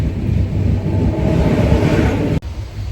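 Steady rumble of a moving train on a Bangalore to Kollam journey, continuous and fairly loud with low rattling, briefly dipping near the end.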